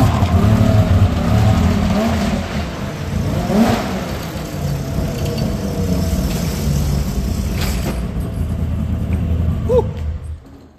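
A Yamaha V-max 700 triple-cylinder snowmobile engine runs and revs indoors in a shop, loud and close with a rough rumbling idle that rises and falls, fading toward the end.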